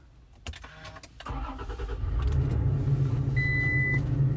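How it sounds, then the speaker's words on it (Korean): A Toyota Tacoma Limited pickup truck engine cranks and catches, then settles into a steady, loud idle rumble, with a short electronic seatbelt chime sounding near the end. "이제 한번 시동을 한번 걸어 볼게요."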